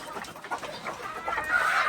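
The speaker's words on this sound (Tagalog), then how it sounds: "pinapakain natin yung mga manok." Chickens clucking and chattering together at close range while being fed on a farm, a busy flock of overlapping calls growing a little louder toward the end.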